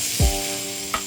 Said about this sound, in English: Chicken fajitas sizzling.